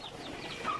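Chickens in a yard full of hens cluck faintly and intermittently. The sound is quiet and somewhat distant, with no voices over it.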